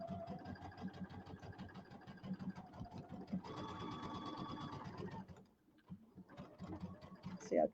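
A sewing machine stitches a quarter-inch seam through quilt pieces for a small table topper, its rapid steady needle chatter running close and loud for about five seconds, pausing briefly, then starting again.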